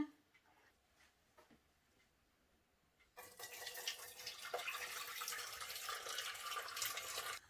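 Quiet clinks and faint noise, then water suddenly pours out of pickle jars in a steady, splashing stream that continues to the end.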